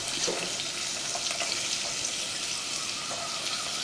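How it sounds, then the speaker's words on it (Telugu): Onion sprouts frying in hot oil, a continuous bright crackling sizzle close by that holds steady throughout, with faint clinks in the background. "ముందు ఆయిల్ అయితే వేడెక్కిపోయింది వేసేస్తున్నాను ఉల్లిపాయ మొక్కలు"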